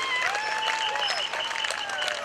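Residents in the street applaud emergency services in a steady spread of hand claps, while a siren wails over the top in rising and falling sweeps.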